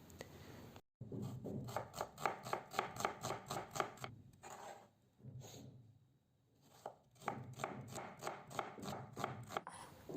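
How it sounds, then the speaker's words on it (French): An onion is finely chopped with a knife on a board, rapid rhythmic taps in quick runs broken by short pauses, close and crisp. "Je vais couper un oignon finement,"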